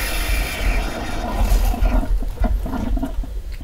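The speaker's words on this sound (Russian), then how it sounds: "Вместо воды из кранов с шумом выходит только воздух." Harsh hiss and gurgle of air spitting out of a water tap in place of water, loud and sputtering, fading into broken bursts toward the end.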